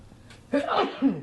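A single sharp, close sneeze bursts out after a quiet moment, followed by a brief trailing breath.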